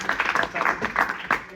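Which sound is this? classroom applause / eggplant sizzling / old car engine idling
classroom applause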